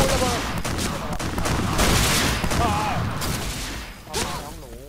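Rapid bursts of close automatic gunfire from the Point Blank online shooter, dense and continuous with a few heavier blasts, overlaid by game sound effects and a voice speaking over the action.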